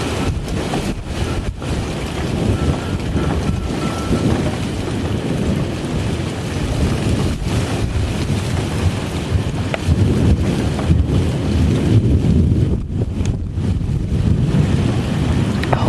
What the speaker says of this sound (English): let's listen to the thunder now